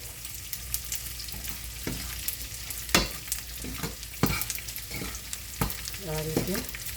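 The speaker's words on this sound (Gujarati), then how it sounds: "આપણે ગુંદને થોડો નાખીને તળવાનો છે" Pieces of edible gum fry in hot ghee in a pan for methi paak, a steady sizzle broken by sharp scrapes and clinks of a spoon stirring at uneven intervals.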